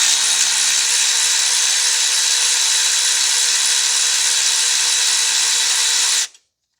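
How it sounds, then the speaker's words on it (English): A power tool works the alternator adjustment bolt on a 2012 Toyota Corolla 1.8, giving one loud, continuous high whine that holds steady for about six seconds and then cuts off abruptly. "And then now you can loosen up the adjustment bolt."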